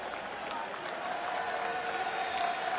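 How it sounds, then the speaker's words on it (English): A crowd at a soccer grand final ceremony applauds the match officials, with steady, moderately distant clapping throughout. "Give them a round of applause."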